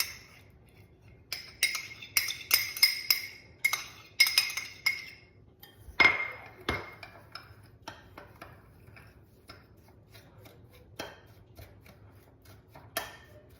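Crumbs are mixed with melted butter in a bowl, making a run of close, irregular clinks and taps that are busy at first and then thin out to sparse, scattered knocks.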